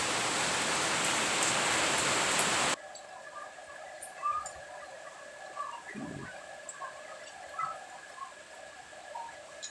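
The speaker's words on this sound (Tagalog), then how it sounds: "madungog ninyo, kusog-kusog yun ang uwan" Heavy rain pours down in a dense, loud roar for about three seconds, then the sound cuts to quieter ambience with faint patter and scattered drips.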